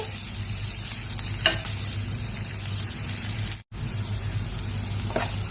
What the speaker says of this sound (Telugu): ఇప్పుడు సాల్ట్ అయితే వేస్తున్నానండి. సాల్ట్ వేస్తే కొద్దిగా ఈ ఆనియన్స్ అనేది మనకు వేగడానికి మంచిగా హెల్ప్ఫుల్ అవుతుంది.